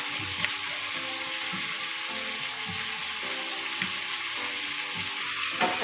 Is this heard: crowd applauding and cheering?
no